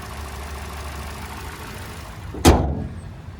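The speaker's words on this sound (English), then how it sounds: "And there's that 2-liter naturally aspirated 4-cylinder." The 2.0-liter naturally aspirated four-cylinder of a 2021 Toyota Corolla SE Apex idles with a steady, close low hum, and a single sharp thud like a door or hood closing comes near the end.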